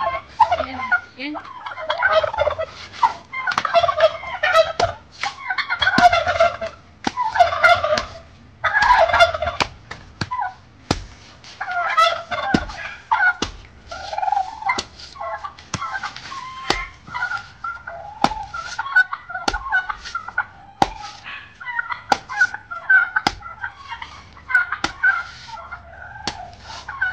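Chickens and other fowl call in repeated bursts of clucking and gobbling, loud and near, with sharp clicks and knocks scattered through and no talking.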